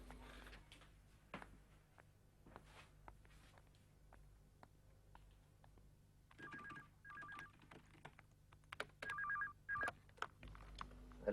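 A telephone is dialed, with short bursts of dialing tones in two separated groups, faint and close against quiet room noise and a few soft knocks and handling sounds, without any talking.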